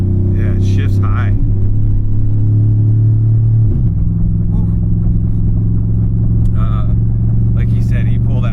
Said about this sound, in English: We've got the old Silverado back up and running.